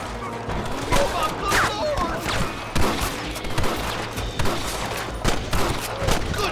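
Gunfire in the video game Red Dead Redemption, a rapid fusillade of sharp shots cracking one after another, with voices talking over the shooting.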